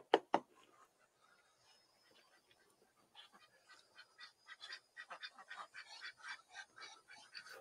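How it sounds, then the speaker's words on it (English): Chickens cluck in a quick series of faint, irregular calls, picking up and continuing steadily after a couple of louder sharp notes at the start. "You hear those chickens?"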